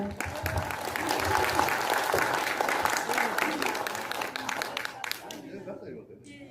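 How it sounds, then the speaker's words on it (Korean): Guests at a year-end party clap in a dense burst of applause that swells, holds loud and close for several seconds, then tapers off with a few last claps. "여러분 큰 박수 부탁드리겠습니다"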